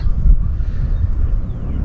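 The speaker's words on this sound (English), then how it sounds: "It's just too windy." Steady wind buffeting close against the microphone at Fremont lake number 16 in Nebraska, a dense low rumble with gusty swells throughout and no voices.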